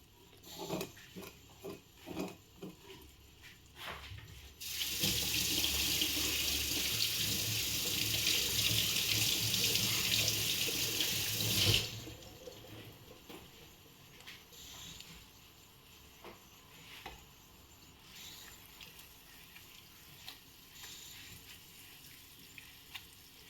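Water gushes loudly from a tap for several seconds, then shuts off, with clinks and small kitchen handling sounds before and after.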